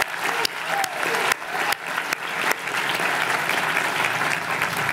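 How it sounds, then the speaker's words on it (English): Audience applause at an architecture school graduation address for the GSD classes of 2020 and 2021, a dense, steady wash of clapping that swells and holds loudly for the full stretch with a few sharper claps near the start. "Yeah, that deserves applause."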